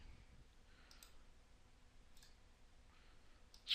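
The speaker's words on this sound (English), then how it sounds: "right click on him. Come on, right click." Mouse clicks on a computer during a database task, a few quiet isolated clicks near 1 second, 2.2 seconds and a sharper one at the very end over faint background hiss.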